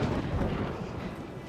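Thunder rolls through a rainy-night scene in the TV drama Smallville, a deep, continuous rumble that stays fairly steady and unbroken for its whole length, with no talking over it.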